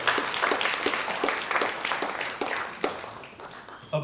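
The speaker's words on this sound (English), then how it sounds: "I think that deserves another round of applause" An audience claps after a musical performance, dense applause that stays lively for several seconds, then thins and fades toward the end.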